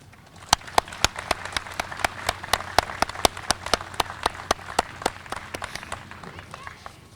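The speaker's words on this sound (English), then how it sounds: "I would also like to offer a round of applause for the service members who are deployed serving our country" Applause at an outdoor Veterans Day ceremony in Melrose honoring deployed service members: a sparse, evenly paced run of sharp claps, loud and close, fading out after about six seconds.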